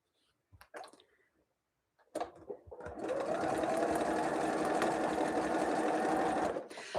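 A sewing machine stitches mystery quilt pieces: a few soft handling clicks, then the motor starts and hums steadily for about four seconds, close and loud, before stopping abruptly.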